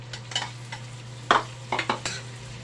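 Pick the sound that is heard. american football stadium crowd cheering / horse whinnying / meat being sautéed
meat being sautéed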